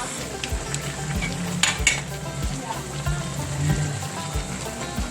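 Mechado sauce goes into chicken cooking in a pan, bringing a steady sizzle and bubbling with the occasional clink of a utensil against the pan, close and continuous.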